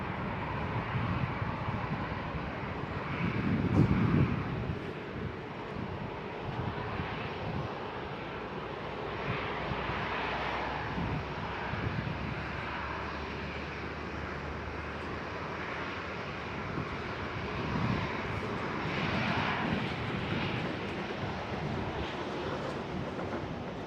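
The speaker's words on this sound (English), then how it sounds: "we've got a KLM 737 slowly rolling in." A KLM Boeing 737 rolls slowly along the taxiway at Schiphol airport, its engines giving a steady, moderately distant whine and rumble with a brief louder swell early on.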